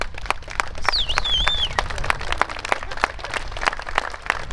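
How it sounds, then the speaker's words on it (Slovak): An audience at a plowing competition gives prolonged applause for the day's competitors, a steady wash of many hands clapping, with a whistle rising over it. "Poprosím skutočne silný potlesk."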